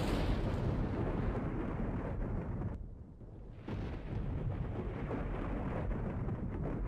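Thunder rumbling through a storm in the video game Minecraft, a loud, sustained, broadband roll that briefly drops away midway before surging back.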